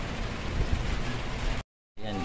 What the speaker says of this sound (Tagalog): Yan, di talaga ako makaalis sa sobrang ulan.